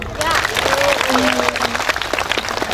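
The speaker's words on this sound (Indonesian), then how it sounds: "Tepuk tangan dulu dong" A crowd at a humorous Bugis-language Islamic sermon claps loudly and steadily, with cheers and voices mixed into the applause throughout.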